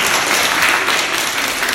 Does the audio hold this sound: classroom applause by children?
yes